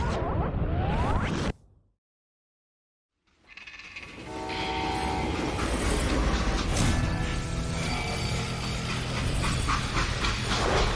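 A freight train in the Western video game Call of Juarez: Gunslinger, a brief loud burst, then a sudden silence before a rising, sustained roar of rolling rail cars with a tonal horn-like whistle layered over it, loud and close.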